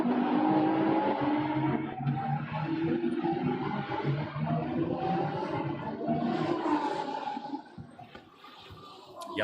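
Race cars run in a line behind the safety car out of La Source at Spa, engines droning and rising at moderate distance in overlapping waves, with a commentator talking over them.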